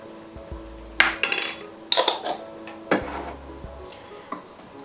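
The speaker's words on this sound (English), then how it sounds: "I'm going to give that a quick stir" Chilli con lentil gets a quick stir in a pot after chili powder and cumin go in, giving a few sharp spoon knocks and scrapes against the metal in short bursts, with quiet pauses between.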